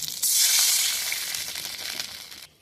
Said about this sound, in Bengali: এবার এর মধ্যে আমি একটু জল দিয়ে দেবো